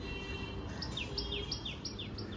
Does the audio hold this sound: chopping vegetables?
no